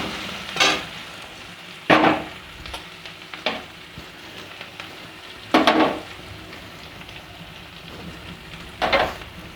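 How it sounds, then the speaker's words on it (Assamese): Ginger garlic paste with salt and turmeric being stir-fried in a pan, a soft steady sizzle broken by several sharp scrapes and knocks of the stirring utensil, close by, with no voices. "এতিয়া ইয়াত আদা নহৰু পেষ্টটো দি দিম। দি অলপ লৰাই ল'ম।"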